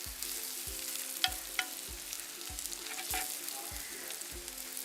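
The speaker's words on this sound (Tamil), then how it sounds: "இந்த மிச்ச எண்ணெய்க்குள்ள வெந்தயத்தை பொரிச்சோம்னா காணும்" Fenugreek seeds sizzle and crackle in leftover hot oil in a pan, a steady close frying hiss broken by a regular low thumping and a few sharp pops.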